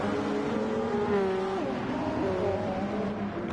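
Two Audi race cars dueling at Monza in a racing video game, engines droning steadily close together with rising and falling pitch as they rev, loud and continuous.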